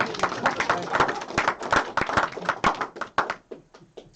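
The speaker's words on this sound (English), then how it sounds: "Round of applause for Larry and I, everyone." An audience applauds with dense, steady clapping for several seconds, thinning out toward the end.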